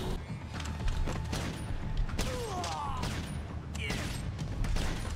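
Rapid rifle fire from an anti-materiel rifle in the Dead Rising 2 video game, a dense stream of sharp shots over game noise, with people talking excitedly over it.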